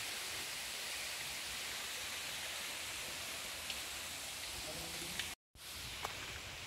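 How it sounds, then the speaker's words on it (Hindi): Palani waterfall in Ramgarh, Jharkhand, gives a steady, broad rushing roar of falling water that fills the scene, broken by a brief cut near the end. "पुलानी वाटरफॉल है"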